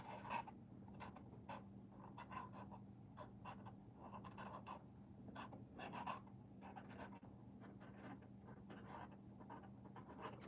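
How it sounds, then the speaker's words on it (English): Pen scratching on paper while writing out an email address by hand, a steady series of soft close strokes and taps continuing for several seconds over a quiet low hum, no talking. "I'll write it down here."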